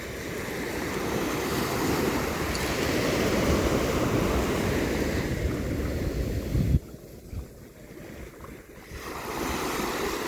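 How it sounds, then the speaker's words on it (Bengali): Sea waves surge and wash continuously on the shore at Saint Martin's island, a broad roaring surf with wind buffeting the microphone, briefly dropping before the wash returns. "ঢেউয়ের শব্দ একরকম, কিন্তু ঢেউগুলো ভিন্ন রকম"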